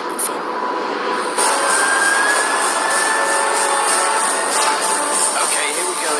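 Jet aircraft engines at high thrust, up to 58,000 pounds, roar loudly and steadily with a rising whine, swelling a notch after the first second and holding there to the end; no talk.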